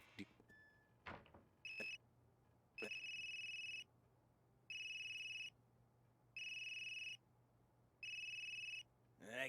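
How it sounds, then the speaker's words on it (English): Phone ringing in the detective video game Unheard, a repeating electronic ring in regular bursts about a second long with short gaps, fairly faint and distant, preceded by a few clacks and knocks. "That geezer's phone is ringing."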